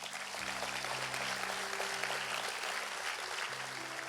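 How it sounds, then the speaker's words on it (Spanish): Church congregation applauding for the pastor, a dense sustained clapping that fills the space at moderate loudness from start to end. "Dale un aplauso al pastor."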